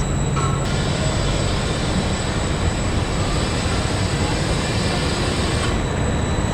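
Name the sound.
inside a moving train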